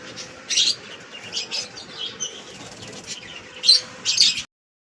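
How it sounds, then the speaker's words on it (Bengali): Pigeons settling after flight, with several short bursts of wing flapping at close range, one around the start and a louder pair near the end, over a faint steady background. "আমাদের 4টে পায়রা নেমে গেছে"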